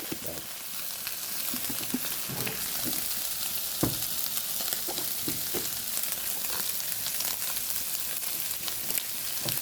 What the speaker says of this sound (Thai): เอามาผัดนะครับ ใส่เครื่องปรุงลงไปเลย